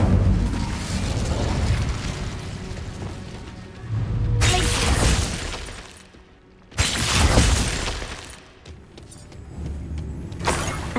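In Hogwarts Legacy, an Incendio fire spell goes off as a bright whooshing burst of flame, followed a couple of seconds later by a second fiery blast, loud against a low rumbling game backdrop.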